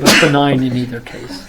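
A single sharp sneeze bursts out near the start, loud and close, followed right away by a person speaking in a medical discussion.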